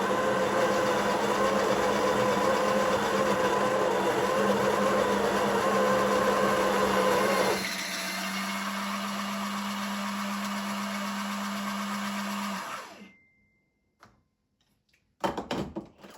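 Breville Oracle Jet espresso machine grinding coffee beans, a loud steady whirring grind that shifts to a lower hum midway, then stops, followed by silence and a few brief clicks.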